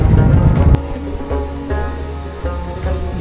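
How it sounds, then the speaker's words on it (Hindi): Water gushing out at the lower side of a dam into a small tank and channel, a close, steady rushing roar with a few sharp knocks over it. "ये डैम के जो नीचे साइड जो है वहाँ से पानी निकल रहा है"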